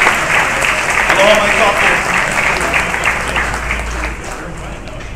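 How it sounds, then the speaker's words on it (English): Audience applauding the people who prepared the meal at a Hawaiian community forum, dense sustained clapping that fades toward the end, with a voice speaking briefly over it. "Let me give a round of applause for all the people that prepared the meai."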